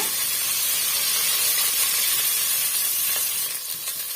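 Brinjal sautéing in a pan for a gravy, a steady loud broadband sizzle that hisses continuously throughout, easing slightly near the end.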